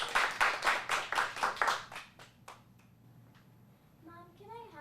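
A small group in a kids' acting class claps in a brief round of applause: about nine sharp, rhythmic claps that fade out after two seconds, followed by quiet and then someone speaking.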